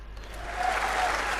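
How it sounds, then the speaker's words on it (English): Snooker crowd at a Grand Prix quarter-final cheers and applauds as a frame is taken, a dense wash of clapping that swells slightly and holds steady, with no talk over it. "And he gets a good cheer from the crowd, and Shaun Murphy takes the first frame and"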